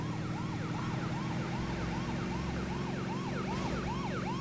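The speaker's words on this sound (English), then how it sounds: "I hear a police car." Police car siren in the racing video game Midtown Madness, a loud continuous wailing tone sweeping up and down in quick regular cycles over a low engine rumble, with no talk.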